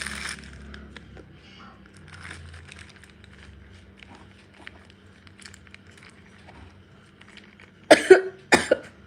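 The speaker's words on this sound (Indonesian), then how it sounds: "Batuk." Quiet background rustling, then two sharp, loud coughs close together near the end, up close to the listener.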